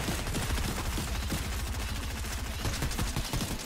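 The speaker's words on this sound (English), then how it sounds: "This guy's shooting at us" Enemy gunfire in a video game, rapid bursts of shots rattling densely and steadily at moderate loudness throughout.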